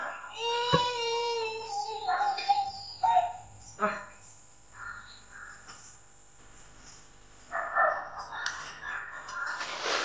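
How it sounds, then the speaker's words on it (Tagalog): Harsh, repeated caws from a crow, with people talking excitedly around and between the calls. "May uwak, Pastor."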